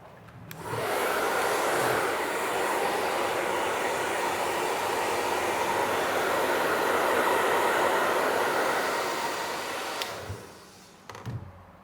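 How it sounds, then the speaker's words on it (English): A hairdryer blasts steadily during a haircut at a barber's, switching on abruptly, holding a loud, even roar for about nine seconds, then cutting off, with a few faint clicks and handling noises afterward and no talking. "let's give you a little blast off with the hairdryer"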